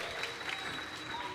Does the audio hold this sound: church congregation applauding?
yes